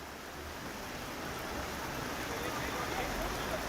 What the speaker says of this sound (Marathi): मुंबईत मुसळधार पाऊस पडतोय